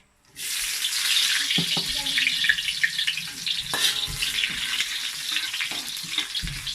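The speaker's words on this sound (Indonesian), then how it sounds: "minyak kita telah panas. Kita masukkan ini bawang merah dengan bawang putih" Shallots and garlic dropped into hot oil: a sudden loud sizzle that settles into steady close frying with occasional stirring scrapes, no talking.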